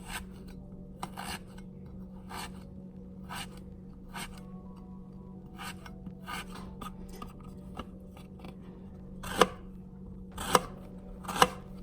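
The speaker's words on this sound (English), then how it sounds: "I am just going to cut up some radishes" Knife cutting up radishes, a steady series of soft crisp chops at a regular pace, a few louder near the end, with a low hum underneath.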